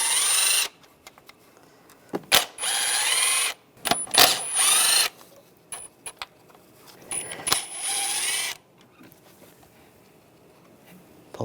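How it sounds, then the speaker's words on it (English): Valve cover studs are backed out with a 10mm socket on a power tool, several bursts of high whirring a second or two long, separated by metallic clicks and brief rattles, close up. "Using a 10mm socket, we're going to take all the studs out in the middle."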